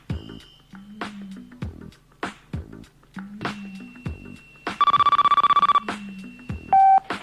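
Phone lines on a radio talk show come alive: loud, close electronic telephone ringing and beeping tones in repeated bursts, with a sustained trilling ring near the end and no voices.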